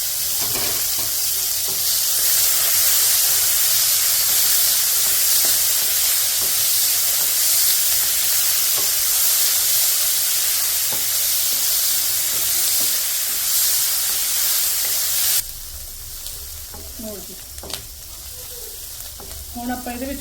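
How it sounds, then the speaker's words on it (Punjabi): Onions sizzle steadily in a pan with cumin, a loud continuous frying hiss with occasional stirring taps, which drops to a quieter simmer near the end. "5 ਮਿੰਟ ਹੋ ਗਏ ਪਿਆਜ਼ ਭੁੱਜਦੇ ਨੂੰ"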